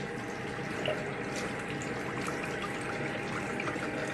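A tap runs steadily while a face is rinsed, a soft continuous trickle and splash of water at a low, even level with no voices.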